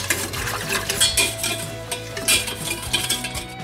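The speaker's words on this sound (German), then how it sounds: "Und das wird dann jetzt erstmal so lange verrührt, bis da keine Klümpchen mehr zu sehen sind." Strawberry juice stirred with cornstarch in a pot until no lumps remain, with repeated close scraping and clinking of a utensil against the vessel, loud and irregular, no speech.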